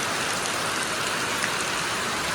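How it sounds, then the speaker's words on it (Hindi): Steady rain pouring down at Merbil eco park bird sanctuary in Naharkatia, Assam, a dense, even hiss of drops on surfaces with no pauses or voices. "बारिश दे रहा है अभी भी"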